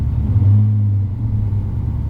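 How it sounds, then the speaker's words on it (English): A Dodge Challenger 392 Hemi Scat Pack with stock exhaust idles close by in a steady low rumble, and an Accuair Endo-CVT air compressor running alongside is buried in the exhaust note. "So the Endo-CVT in a 392 Hemi with stock exhaust."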